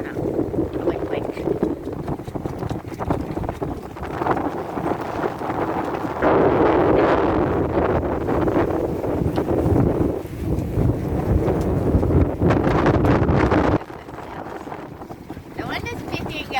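A sailboat under way in steady wind near Martinique, constant roaring gusts buffeting the microphone with rushing water beneath, loud and continuous, easing slightly near the end.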